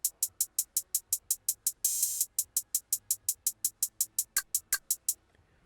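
Programmed trap-style drum pattern from an Astro Cactus kit: a steady, loud run of crisp hi-hat ticks with one sustained open hi-hat wash near the middle and a few percussion hits toward the end, no voices.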